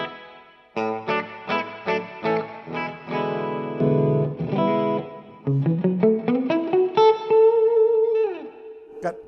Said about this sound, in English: This is the amp reverb.